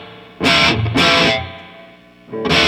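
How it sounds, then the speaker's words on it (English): Overdriven electric guitar through the reverb of a Marshall Valvestate VS100 combo amp, a few distorted strummed chords with a reverb tail ringing between them, loud and close. "This amp does also have clean reverb and overdrive reverb."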